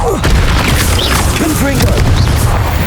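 Incendio fire spell cast in the video game Hogwarts Legacy, a loud booming whoosh with crackling bursts sustained throughout, mixed with game sound effects and a voice.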